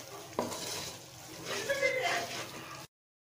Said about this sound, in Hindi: अब हम इन तमाम चीज़ों को अच्छी तरह से मिक्स करेंगे।